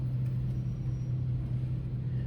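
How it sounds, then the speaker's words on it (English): A car or truck engine idling outside, a steady low rumbling drone that holds constant throughout with no other sounds. "Oh, I wish that car would shut off their engine"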